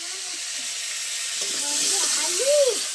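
Raw bananas frying in oil already used for frying fish give a soft, steady sizzle and hiss, with a voice talking over it partway through.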